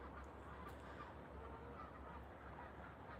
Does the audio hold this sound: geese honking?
yes